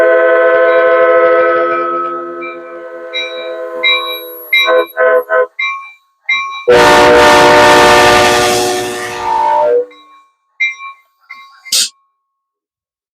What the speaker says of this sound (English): my cheap horns that everyone makes fun of, you hook them up that way, I guarantee they sound like Nathan's